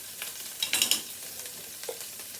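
Fresh thyme dropped into a hot pan while making clams oreganata crackles and sizzles, with a brief burst of louder spitting early on that settles into a faint, steady fry.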